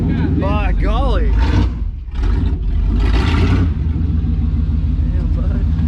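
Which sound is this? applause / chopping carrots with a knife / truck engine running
truck engine running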